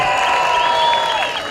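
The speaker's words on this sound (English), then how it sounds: "give a big cheer to Plymouth Gladiators" A speedway crowd at the Coliseum cheers and applauds loudly for the home Plymouth Gladiators in a brief, dense burst of clapping and shouting that tapers slightly at the end.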